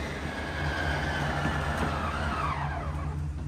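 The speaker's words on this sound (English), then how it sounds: "hold the slide button, do not release it until the slide stops" Motorized slide-out extending on a 2023 Thor Four Winds 24F motorhome, a steady loud electric motor whine and mechanical drone running continuously close up, with a rising-falling tone partway through and no talk.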